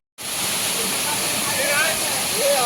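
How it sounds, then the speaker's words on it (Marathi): A small waterfall at Mahuli Farm in Asangaon roars in a steady, close, full-bodied rush of falling water that runs unbroken throughout, with faint voices barely audible beneath it. "तर परत आपल्याला एक धबधबा लागलेला आहे"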